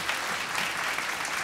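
Concert audience applauding for the drummer at a band's album release show, a dense steady wash of clapping filling the room at even loudness throughout, with no voices over it.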